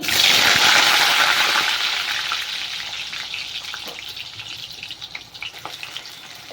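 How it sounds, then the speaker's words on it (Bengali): Potatoes frying in hot mustard oil, a loud, steady sizzle that is strongest at the start and eases slightly, with faint crackles and pops, and no talking. "তেলটা আমার খুব ভালো গরম হয়ে গেছে এখনো প্রথমে আমি আলুগুলো ভেজে নেব"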